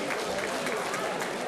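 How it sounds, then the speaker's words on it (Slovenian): Audience applause at a live St. Martin's Day wine celebration honoring winemakers, a dense steady patter of many hands with crowd murmur mixed in. "Aplavz."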